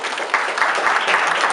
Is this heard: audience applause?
yes